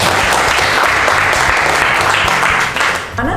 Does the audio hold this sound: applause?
yes